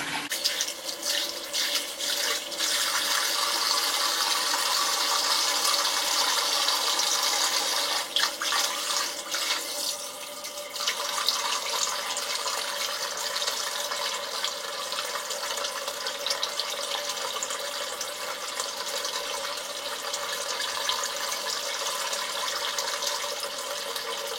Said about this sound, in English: I'm just going to get a washcloth and run some warm water and just literally wipe it away